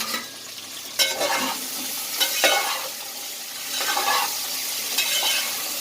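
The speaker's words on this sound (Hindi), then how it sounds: "सबसे पहले हम इसे 5 मिनट तेज़ आंच पे भूनेंगे।" Mixed okra curry (bhindi salan) frying over high heat in a single pot, with a steady sizzle broken by several scraping stirs of a spoon, close and fairly loud with no talking.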